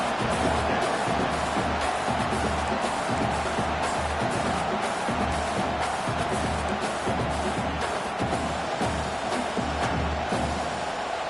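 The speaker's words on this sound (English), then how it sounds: "This crowd bringing serious noise on this huge 4th down play" Dense, loud stadium crowd noise at a college American football game between Miami and Texas, a steady roar building for a big fourth-down play with no clear breaks across the stretch.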